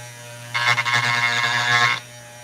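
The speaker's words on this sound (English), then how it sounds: "I could have access to a proper saw and not this tiny Dremel cutoff saw." A tiny Dremel cutoff saw cuts into opal in a short burst of bright, buzzing grinding lasting about a second and a half over a steady low electrical hum, with no one talking.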